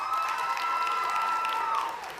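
A high school class of 2021 graduation crowd applauds and cheers, a steady, bright wash of clapping with a tonal hum or whistle running through it, holding level then easing off at the end.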